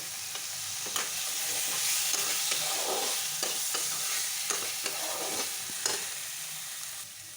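Boiled potatoes are stirred into a frying egg and soyabean curry, with a continuous close sizzle and repeated spatula scrapes and soft knocks and no voices.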